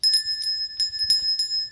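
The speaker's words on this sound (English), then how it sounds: "a bell." A small bell rings in quick, bright strikes, about six clear tings with a sustained high metallic tone, close and fairly loud with no talk over it.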